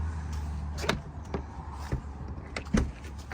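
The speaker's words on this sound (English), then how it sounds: "Powered awning, that's a push of a button." A powered awning on a camper extends with a low mechanical motor hum and a few sharp clicks and knocks, close by and moderate in level, over a few seconds.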